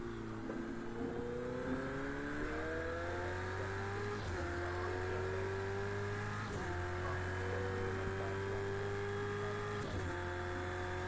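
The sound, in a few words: Corvette and Ferrari race cars in video game Project Cars 2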